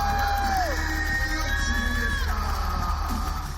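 Crowd of more than 2,500 fans at a hockey match, a loud burst of yelling, whooping and cheering with a whistle-like rising tone, dense and continuous before tapering.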